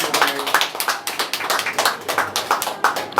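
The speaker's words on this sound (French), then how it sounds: "Vos acclamations." A crowd at a ceremony in Kimpese claps in a quick, rhythmic beat, the sharp hand claps repeating close and steady with a faint murmur of voices underneath.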